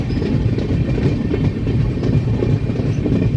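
A train rolling beneath an old road-cum-rail bridge, giving a steady, rumbling clatter of wheels on track heard fairly close, with no voices.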